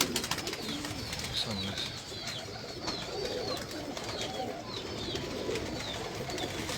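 Pigeons on a rooftop in Lahore, with a steady bed of soft cooing and some bird chirps over outdoor background noise, while a voice speaks briefly.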